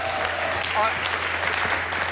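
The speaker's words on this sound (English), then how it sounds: "Give her a round of applause" A live studio audience at a cooking show claps for a volunteer called up to cook, a steady broad patter of applause throughout, with brief voices cutting through midway.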